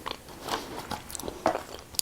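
Crunchy Glosette candies of peanuts coated in glossy milk chocolate being bitten and chewed up close, a handful of crisp crunches scattered irregularly, with no talking.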